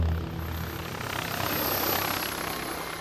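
Steady helicopter rotor noise, a continuous broad roar with low throbbing, fairly loud and unbroken, with no voices.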